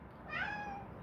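A house cat meows once, a clear drawn-out cry close by, standing alone without any talk over it.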